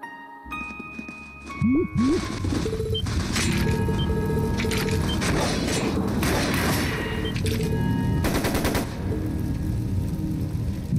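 Gunfire in the video game Trails of Cold Steel II, with rapid bursts of shots over a dense, busy backdrop of thuds and clatter, loud and sustained after a brief quieter opening.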